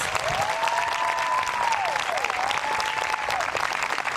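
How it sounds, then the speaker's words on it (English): A crowd applauds graduates at an 8th grade promotion ceremony, with sustained loud clapping from many hands and a whistling tone gliding over it for most of the stretch. "Let's give them a huge round of applause."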